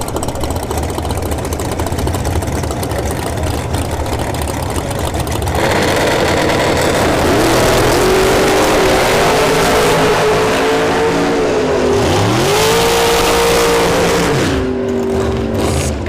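Dragster launching down a drag strip at an NHRA bracket series race at Bradenton Motorsports Park, a loud engine roar building and sweeping up through gears as the car accelerates hard, continuous against crowd and track ambience.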